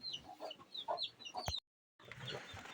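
A broody hen clucks in a run of short, close calls, then breaks off briefly before more clucking resumes against a busy farmyard background.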